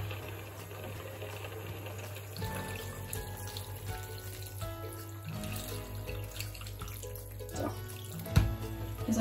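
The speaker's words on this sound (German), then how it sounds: "Und dann gebe ich noch Wasser hinzu." Water runs and splashes into a cooking pot for a pumpkin soup already deglazed with apple juice, a steady close pour with a few sharper clatters near the end.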